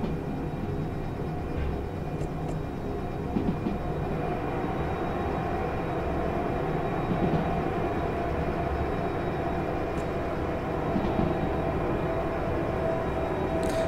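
Train running in the video game Derail Valley, a steady loud rumble of wheels and locomotive with continuous track noise and occasional faint clicks, no voices over it.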